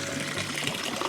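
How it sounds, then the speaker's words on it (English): A small waterfall, fed from a hose with a float valve and a pump, splashes and trickles steadily up close, a constant wash of running water with no talk. "But this little waterfall came along with it."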